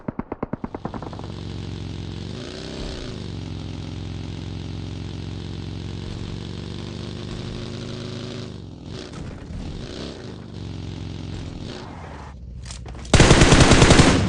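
Sustained rapid MG3 machine gun fire in a battle royale video game, a steady loud clatter running for several seconds, then a sharp louder burst of sound at the very end; no talking.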